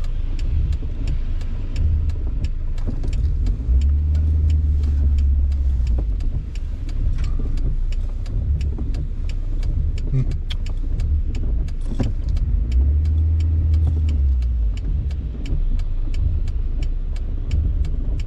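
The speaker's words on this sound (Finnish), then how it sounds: "Kylläpä on autoja nyt." Cars pass on a road one after another, steady close engine and tyre rumble swelling as each vehicle goes by, with no voices.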